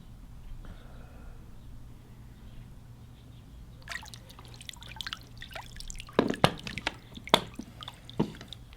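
A sealed audio recorder is hauled up out of water, with quiet sloshing and then several close, sharp drips and splashes falling back into the water.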